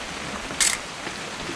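A camera in What Remains of Edith Finch takes a picture, one short, sharp shutter click standing out clearly over a steady background of falling rain.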